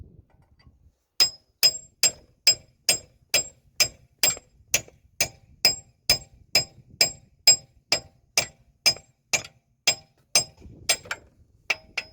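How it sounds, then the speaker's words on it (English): Sharp metallic hammer strikes on a chisel, freeing a lower suspension ball joint on a Mitsubishi Lancer, ring out in a steady, evenly spaced series, about twenty blows, close and fairly loud. "just gonna do that with chisel and a hammer"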